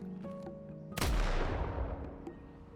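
A single heavy spreadshot weapon blast fires in the video game Deadlock, hitting sharply and loudly, then fading through a long rumbling tail.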